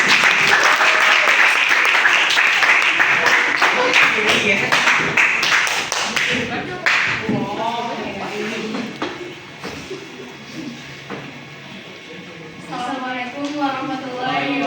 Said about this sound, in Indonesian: Oke, kita tepuk tangan dulu untuk kelompoknya.